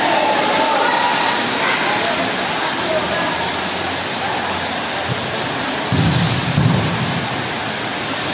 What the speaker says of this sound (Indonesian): terdengar suara air hujan menerpa atap spot lapangan